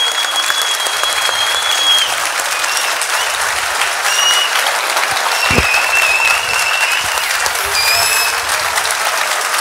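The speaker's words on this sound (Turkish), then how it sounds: "Kocaman alkışlarla sizi buraya yanımıza almak istiyoruz." A large political rally crowd in Antalya bursts into loud, continuous applause, dense clapping layered with scattered whistles and cheers, close and sustained throughout.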